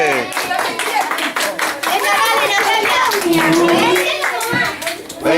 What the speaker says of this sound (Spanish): aplauso, muy bien